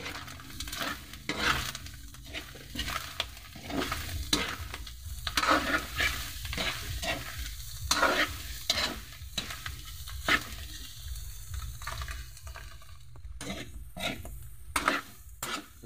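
Plenty of onions and chili stir-fried with softened carrots and radish in a pan, a soft continuous sizzle under repeated rhythmic scrapes and clacks of a utensil against the pan, with no one talking.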